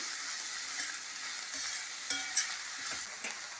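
Onions frying in a pan with cinnamon sticks and whole spices for a restaurant-style paneer mixed vegetable curry, a continuous close hiss of sizzling oil broken by a few sharper crackles and the scrape of stirring.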